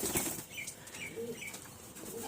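Pigeons flap their wings at a loft during morning feeding, a burst of close, fluttering wingbeats followed by lighter flutters and faint chirps, with no voices.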